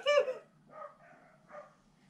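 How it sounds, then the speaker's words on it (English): A dog barks, one sharp bark followed by two or three softer, muffled barks that sound some distance away against a quiet background. "That bloody dog hasn't stopped barking all day."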